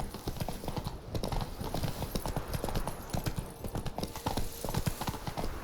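Roach, a horse in The Witcher III: Blood and Wine, gallops with rapid, even hoofbeats close and loud over game ambience, a brief neigh mixed in and a voice speaking faintly.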